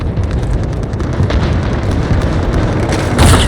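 A cruise missile blast in Call of Duty: Modern Warfare Ground War, heard as a loud, continuous rumbling boom throughout, with a sharper burst swelling near the end.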